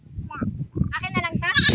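A baby goat bleats in several short wavering cries, close by, with people talking in the background.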